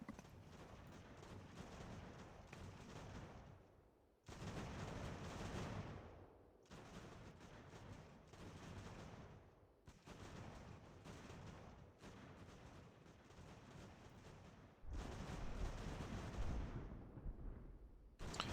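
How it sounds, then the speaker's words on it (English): Booming cannon blasts in a video game set in the American Revolution repeat in heavy bursts, loud and close, with rumbling noise sustained between shots and no talking. "At the moment the cannon's shooting over here"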